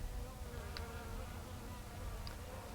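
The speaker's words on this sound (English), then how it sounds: "It's real common to have these worker bees fan when you do this" Worker honey bees fan at a queen cage, a dense continuous hum of many wings, fairly close and steady, with a couple of brief higher buzzes standing out.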